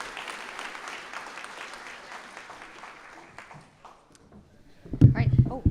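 A crowd at an R&D award ceremony applauds the award winners, a moderately loud wash of clapping that fades away over several seconds before a voice begins speaking close to the microphone.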